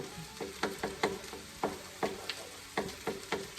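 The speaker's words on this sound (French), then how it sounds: "Juste la faire rôtir un petit peu, là" Rice roasts in a frying pan for children's fried rice, with a run of crisp, close sizzling bursts and light scraping stirs coming in an irregular rhythm.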